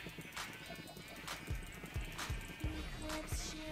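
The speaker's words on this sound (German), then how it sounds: "Ich hau gerade ein paar Schafe" Sheep in a video game bleating repeatedly as they are struck, short cries spaced about every half second alongside sharp hit sounds, with a voice talking underneath.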